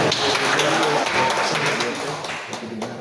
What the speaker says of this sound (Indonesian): Kita kasih tepuk tangan dong buat Bapak Surya.